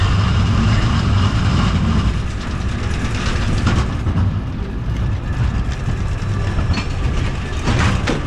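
Crazy Mouse spinning steel roller coaster at Steel Pier, Atlantic City, heard from a car climbing the lift hill: a loud, continuous rattling clatter and wind rush with rhythmic track clicks, no talk.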